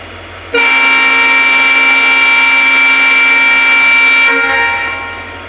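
A departing train sounds a loud, sustained horn blast close at hand for several seconds, then it tapers away over the rumble of the train.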